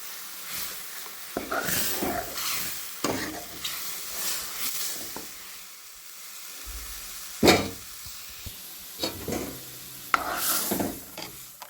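Onions sizzle and crackle in a hot pan, with bursts of stirring and occasional louder scrapes, close by and with no talking.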